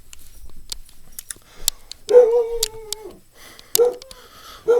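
A pet dog indoors gives a few sharp barks and yelps at close range, scattered over a few seconds with brief pauses and small taps between them.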